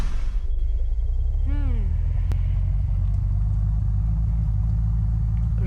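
A car engine in the video game Unturned hums in a steady low rumble throughout, with someone speaking briefly over it early on.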